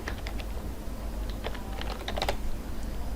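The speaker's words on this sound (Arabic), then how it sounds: "ممكن اكتب مثلا تي اي داتا" Keywords are typed on a computer keyboard as a quick, irregular run of light key clicks, close and fairly soft, with no talking.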